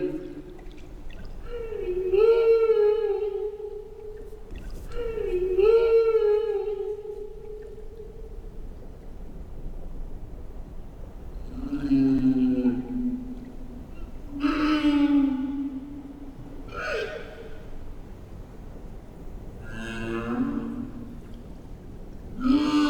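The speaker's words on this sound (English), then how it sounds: "That's a humpback whale song." Humpback whale song unfolds as a series of tonal calls: two rising, wavering moans, then several lower pulsed groans and brief upsweeps, repeating slowly and heard alone.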